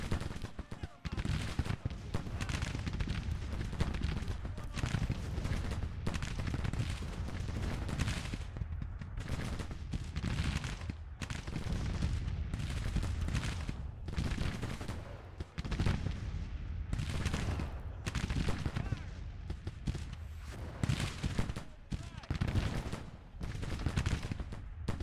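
Union and Confederate battle in Grand Tactician: The Civil War, with artillery fire and volleys of gunfire erupting in repeated loud bursts, mixed with faint voices.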